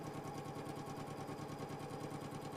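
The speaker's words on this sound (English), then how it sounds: "I'm just sewing with a 1/4 inch seam" A sewing machine runs steadily, stitching fabric with a quarter-inch seam under a quarter-inch presser foot; the needle's fast even chatter fills the short stretch with no talking.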